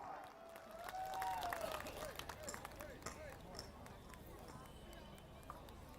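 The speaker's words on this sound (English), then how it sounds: "a round of applause for the director and the co-director Orange Queen" A large outdoor festival crowd in Tamenglong applauds and cheers for the Orange Queen 2025 directors, a dense, sustained wash of clapping that swells and then tapers off, with a faint voice drifting over it near the start.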